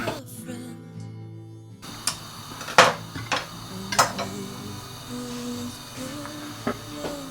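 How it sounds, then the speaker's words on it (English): A fresh knife clicks and taps against a dish while a chop of butter is taken, a few sharp metallic knocks and clinks up close over a faint background of quiet kitchen noise. "I'm going to get out a fresh knife and I'm going to take a chop of butter"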